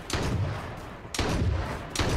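Gunfire in the battle-royale game H1Z1 King of the Kill: three loud, sharp shots spaced about a second apart, each with a booming low tail, no talk over them.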